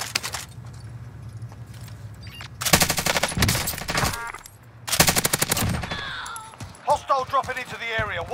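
Gunfire in Call of Duty: Modern Warfare, Resurgence Quads mode, with two loud bursts of rapid automatic fire separated by quieter stretches, followed by clattering and a game voice announcer.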